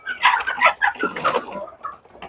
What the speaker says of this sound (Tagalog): Pati manok guys, kumakain na rin.